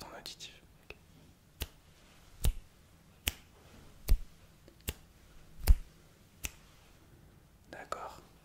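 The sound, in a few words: ASMR finger snapping, left and right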